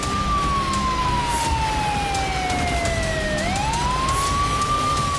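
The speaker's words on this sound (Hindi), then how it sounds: "गलियों में एम्बुलेंस के सायरन गूंज रहे हैं।" An ambulance siren wails through the streets of Kyiv, one loud tone gliding slowly downward and then sweeping back up over steady traffic noise, with no voices.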